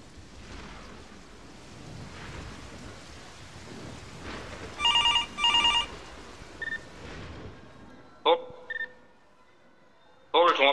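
A telephone rings and beeps during a 119 emergency rescue call drill for river flooding, with short electronic tone bursts in the second half over a steady rain-like hiss.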